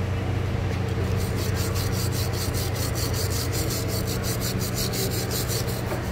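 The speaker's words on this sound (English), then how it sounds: "just run the wire brush on that, clean up the insides, or on where the pad sits" A wire brush scrubs a Mercedes-Benz CLA 45 AMG brake caliper bracket where the pad sits, giving a steady close rasping scrub with a fast repeating stroke over a constant low workshop hum.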